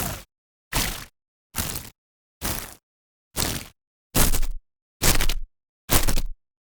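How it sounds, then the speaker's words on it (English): Designed electric crackle and charging bursts for robot sounds, built from electricity samples: eight sharp, loud broadband bursts in a steady rhythm, each cut off by silence, the last few longer and heavier. "a load of great electricity assets in here that work super well for these kind of attack and charging sounds"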